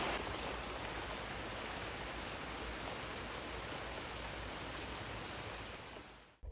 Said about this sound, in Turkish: Yağmur bastırdı. Size de göstermek istiyorum.